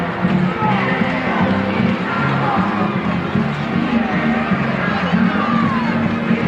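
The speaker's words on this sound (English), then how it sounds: "People clapping, pounding, singing" Dense wrestling-arena crowd roaring in an uproar, with clapping, pounding and singing blended into a loud, continuous wall of noise that does not let up.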